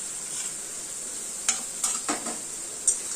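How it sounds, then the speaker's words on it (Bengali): Spice paste mixed with water sautéing in a pan for a fish kalia: a faint, steady hiss punctuated by four or five short stirring scrapes, without voices. "এই মশলাটাকে ভালো করে কষাবো"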